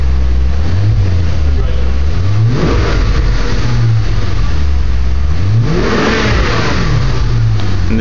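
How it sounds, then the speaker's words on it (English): A Maserati Spyder on its stock exhaust system revs repeatedly, with several loud rising and falling engine sweeps close up and some voices underneath. "we're going to rev the exhaust a little bit to let you get an idea"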